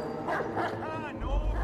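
A dog in the Watch Dogs 2 video game gives a few short yips and barks, their sound blurred into a busy game mix with low rumble and other noise.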